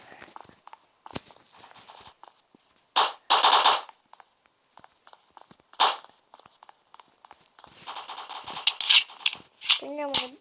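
Gunfire in the video game Block Strike comes as several short bursts of rapid shots separated by quieter stretches of footsteps and small clicks, with a brief electronic tone at the end.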